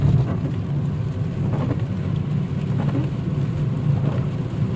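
Steady rain drums on a moving car in Medina's Sultana district, a dense continuous patter with low road rumble underneath, close and even throughout with no voices.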